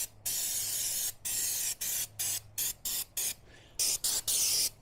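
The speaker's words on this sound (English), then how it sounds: "That's some brake clean." Brake cleaner hisses from an aerosol can onto a Triumph motorcycle in repeated short bursts of varying length, close and sharp, with no talk.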